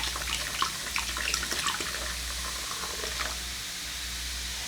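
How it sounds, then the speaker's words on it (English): Water runs from a tap into a pot holding a turkey, a steady splashing stream with bubbling and gurgling as the level rises, continuous and close by. "Now I'm just going to add some more water so the height of the liquid could get up enough to cover the turkey."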